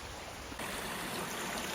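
A small creek waterfall pours steadily in a broad, even wash of rushing water, close by and constant, stepping up slightly louder after a brief moment.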